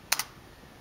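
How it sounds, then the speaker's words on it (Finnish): A single press of the space bar on a computer keyboard: two quick, close clicks for the key going down and springing back, quiet and isolated, then near silence. "Siihen nyt painat 1 kerran välilyöntinappia."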